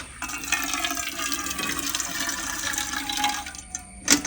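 Water pours out in a continuous, close splashing rush for cleaning, steady for several seconds before a brief clatter at the end.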